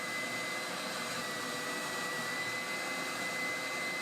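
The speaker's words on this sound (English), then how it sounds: "To clean up the curves, I use the largest sleeve in my spindle sander" Spindle sander fitted with its largest sleeve runs as it smooths the curves of a walnut cutting board handle, giving a steady, even whirring hum with a faint high whine and no speech.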